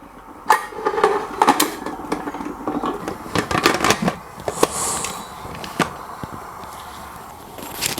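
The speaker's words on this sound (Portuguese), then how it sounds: "Então nós vamos fazer agora o fechamento da panela." Lid being closed on a pressure cooker holding glass jars for sterilization: a run of sharp metallic clicks, scrapes and knocks, clustered near the start and then thinning out, heard close by with no speech.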